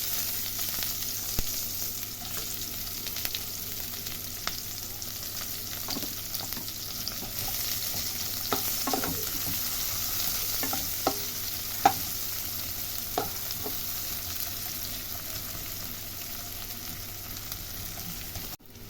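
Sliced onions fry with cumin seeds in hot oil left over from frying fish for a Bengali fish curry, giving a steady, close sizzle broken by occasional scrapes and taps of stirring.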